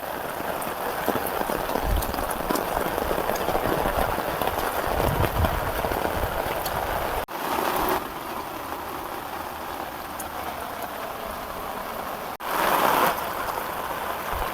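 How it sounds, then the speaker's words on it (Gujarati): Heavy rain pours steadily and loudly throughout, a dense continuous hiss of drops on surfaces, broken by two brief bursts of louder downpour or gusts. "વરસાદ ચાલુ થઈ ગયો"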